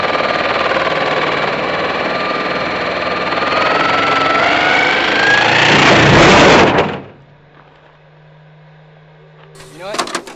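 Electric motor of a Traxxas Drag Slash RC car in a 1969 Chevy Nova SS body, run on 3S or 4S, whines loud and high under heavy throttle for several seconds, then cuts abruptly to a low hum before a short burst near the end.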